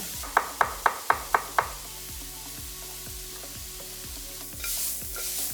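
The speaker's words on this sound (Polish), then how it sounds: "zaczynam smażyć nasze dodatki. I to smażę też krótko" Six sharp, evenly spaced knocks open the clip, then a steady, quiet sizzle and clatter of vegetables and garlic being stirred in a hot pan.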